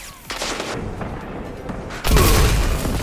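A heavy boom from a grenade explosion in a first-person shooter, hitting loud and low partway through, after a stretch of distant gunfire and battlefield noise.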